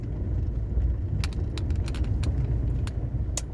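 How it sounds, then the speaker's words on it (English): A car approaches on a rural road in Thailand, heard as a steady low engine and tire rumble from inside a pulled-over vehicle, with a few light metallic jingles like keys rattling. "Car coming the other way."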